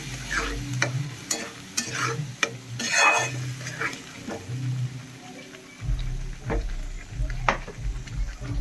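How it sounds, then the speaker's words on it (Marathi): A spoon stirs a paneer masala mixture in a pan, with repeated scraping strokes in an irregular rhythm over a soft sizzle, close and moderately loud. "आपण केलेलं ना ते आता ह्याच्यात मिक्स करायचं"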